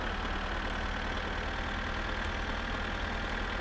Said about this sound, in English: I would rather not listen to the Satsuma's exhaust